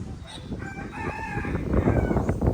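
A Brahma rooster crows nearby, a drawn-out cock-a-doodle-doo over wind noise and rustling outdoors.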